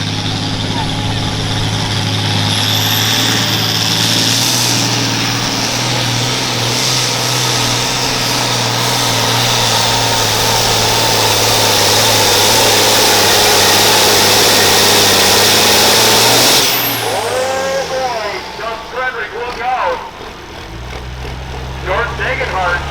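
An outlaw-class farm tractor at a pulling event in Norwalk, Wisconsin, roars at sustained high revs for about seventeen seconds, then the engine drops off abruptly to a lower rumble.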